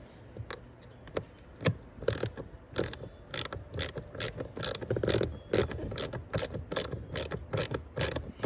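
A hand ratchet clicks in quick, regular strokes while driving the last screw of a blower resistor into a 2002 Chevrolet Suburban, close and fairly quiet with faint mechanical rattle underneath.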